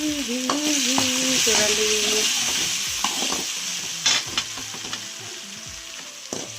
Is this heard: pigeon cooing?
no